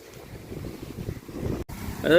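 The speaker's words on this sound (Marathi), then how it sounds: "बाकी वारं सुटलेला आहे जास्त" Strong wind gusting across the microphone at an outdoor fort site, a rough, uneven low rumble that swells and briefly cuts out, with a faint squeak near the end.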